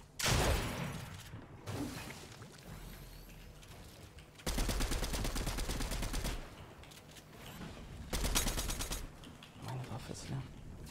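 Rapid automatic gunfire rattles in bursts in a shooter game, two long sustained volleys and shorter shots between, with voices talking over the fighting.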